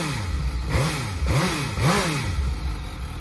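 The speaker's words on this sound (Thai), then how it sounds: "เดี๋ยวฟังเสียงเครื่องยนต์หน่อยฮะ" Motorcycle engine revving hard in repeated rising and falling bursts, loud and close, with no talk over it; the bike is one of a Ducati Monster 796, Suzuki GSX750, Kawasaki ZX-10R or BMW S1000R on a stock exhaust.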